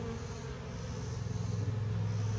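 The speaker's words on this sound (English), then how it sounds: "And the bees are starting to come out quite a bit" Bees buzz out of a smoked hive during a colony transfer, a close, continuous droning hum with a steady low engine-like tone underneath.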